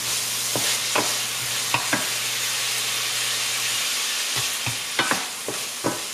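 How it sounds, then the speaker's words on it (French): Vegetables with spinach sauté in a pan, a continuous sizzle broken by scraping stirs and clacks of a utensil, close and fairly loud. "Je remue tout ça, je vais laisser ça revenir"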